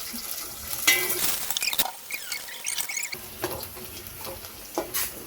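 Thinly sliced onions frying in a pan for a chicken curry, a close crackling sizzle with bursts of popping and spattering, heard alone with no talk.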